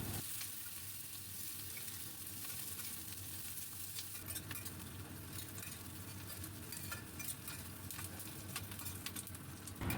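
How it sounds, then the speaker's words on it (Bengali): Chopped onion sizzles and fries in refined oil with bay leaf and whole garam masala, a steady close crackle with stirring scrapes throughout, no voices. "এবার দিলাম পেঁয়াজ কুচি, খুব ভালো করে পেঁয়াজ নাড়তে থাকবো।"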